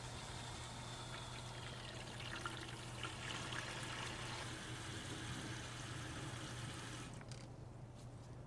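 Water trickles and pours faintly and steadily into a DIY automatic pet water bowl as its float valve lets it fill, with a low hum in the background.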